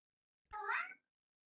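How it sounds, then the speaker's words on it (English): A single short cat meow in a quiet podcasting room, close and clear, lasting about half a second amid silence. "he's got cats in the room when he's podcasting"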